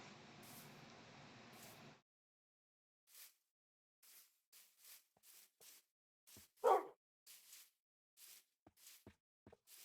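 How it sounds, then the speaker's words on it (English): A wolf in the video game Minecraft barks in short, faint, scattered yips after a burst of noise, with one louder bark standing out, and no one talking. "You are a good dog."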